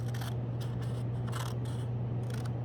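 Scissors cutting across paper for a collage, several short soft snips in quick succession, quiet and close.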